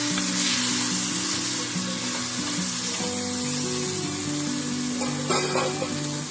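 A chicken filling sizzles in an uncovered pan over a low flame as it is stirred, a constant close frying hiss over a faint tonal hum.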